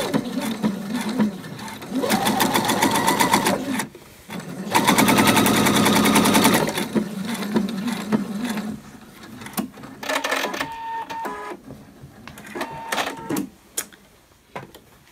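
A sewing machine runs a straight forward stitch along a one-centimetre seam allowance on homemade harem trousers, buzzing in several bursts of rapid rattling with short pauses and quieter gaps between.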